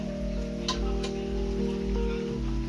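Steady rain falls continuously outdoors amid widespread waterlogging, a constant even hiss running the whole time beneath a low steady hum, with no talking.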